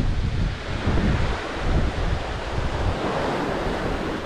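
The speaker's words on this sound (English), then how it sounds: "Hopefully that'll be enough ocean sounds." Ocean waves wash onto a beach in a continuous loud surge, with heavy wind buffeting the microphone and rising and falling over the surf. No one speaks.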